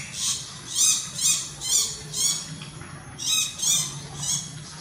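Tarat birds give a distinctive chattering call over open farm fields, sounding as about eight rhythmic bursts of bright, raspy squawks at moderate loudness against a low background hum.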